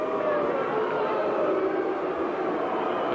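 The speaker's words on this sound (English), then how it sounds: "The crowd with its disapproval." A boxing crowd at a WBO world title fight between a Thai boxer and Andy Tabanas of the Philippines voices its disapproval in a loud, steady roar of jeers and shouts that fills the arena without a break.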